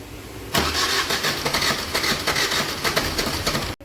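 A Suzuki Swift with a broken timing chain and camshaft cranks and catches, its engine roaring up loud and close, then running roughly with uneven rattling before abruptly cutting off.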